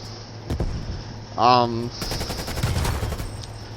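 In Call of Duty Cold War, a Type 63 rifle fires a few sharp gunshot bursts mixed with game sounds, and a voice talks over part of it.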